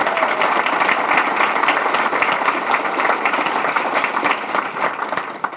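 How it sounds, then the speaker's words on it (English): Steady applause from a community gathering's audience for three staff members, a dense, even wash of clapping lasting several seconds without talk. "if we could just give all three of them a round of applause"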